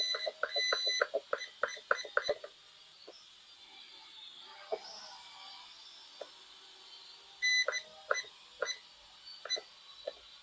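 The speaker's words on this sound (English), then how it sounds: "just push that left joystick down till it beeps" An ATTOP W10 mini-drone controller gives a run of short, sharp electronic beeps in quick bursts during trim adjustment, pauses several seconds with faint background noise, then beeps in another rapid series.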